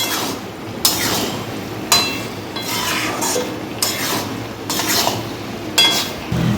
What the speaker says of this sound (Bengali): তো সবটা দিয়ে খুব ভালোভাবে মশলাটাকে কষিয়ে নেব।